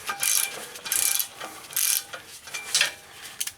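A speed driver spins torque converter nuts onto their studs during a Nissan Rogue transmission installation, giving four bright, rapid ratcheting bursts with short pauses between them, close and fairly loud, with no one talking.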